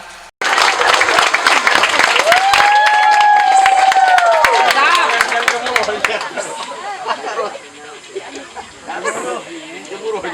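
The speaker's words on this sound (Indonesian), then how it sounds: "Tepuk tangan." Audience at a village Syarhil Qur'an contest clapping loudly and continuously after a performance, with a rising whistle and crowd chatter mixed in, then tapering off into murmuring voices.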